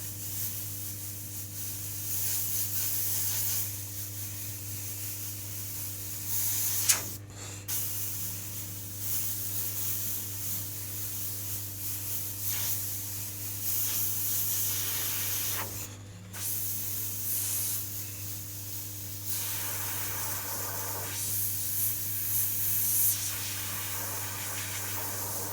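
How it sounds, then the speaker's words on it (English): An Iwata CMC Plus airbrush sprays paint onto canvas with a close, continuous hiss, broken by two brief pauses before the spraying resumes. "the airbrush that I'm using at the moment is the Iwata CMC Plus"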